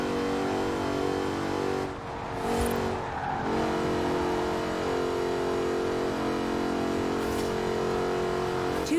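A Jaguar Project 7 engine in the racing game Forza Horizon 4 hums at a low, steady drone, fairly quiet and even, with faint shifts in pitch and no voices.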